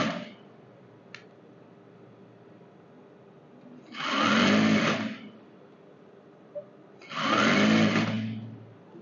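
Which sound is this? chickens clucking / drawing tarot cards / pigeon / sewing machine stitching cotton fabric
sewing machine stitching cotton fabric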